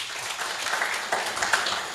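Applause from an audience at an East Africa legal empowerment summit, a short burst of steady clapping heard at moderate distance, with no talking.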